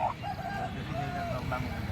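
Native chickens cluck in short bursts at a poultry market over a murmuring background, fairly faint and close.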